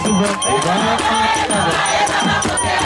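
A church congregation at an all-night service cheers and shouts in a loud dense crowd roar, with voices overlapping throughout.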